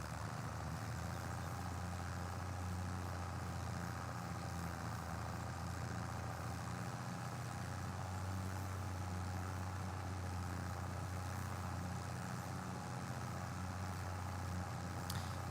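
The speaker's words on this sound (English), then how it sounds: "this tractor is struggling" A farm tractor engine in a farming video game labors at a low, steady drone, a constant heavy rumble with a faint hum running throughout and no talking.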